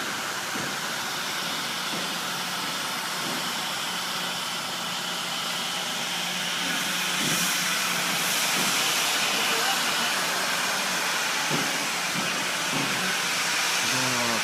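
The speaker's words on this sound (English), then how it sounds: "An old steam engine here." An old steam engine on the Western Maryland Scenic Railroad in Cumberland, Maryland, hisses in a loud, continuous rush that swells midway, close by, with faint knocks and a voice talking underneath.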